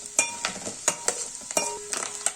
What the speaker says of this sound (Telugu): లైట్గా గోల్డెన్ కలర్ వచ్చే వరకు దీన్ని మనం ఫ్రై చేసుకోవాలి.